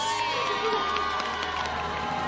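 Large crowd cheering and shouting at a beauty pageant show, a loud continuous roar with high whoops and excited voices layered throughout.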